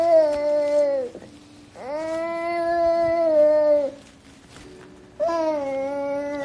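A baby cries in long, deep, sustained wails, three drawn-out bursts separated by short pauses, loud and close with no talking over it.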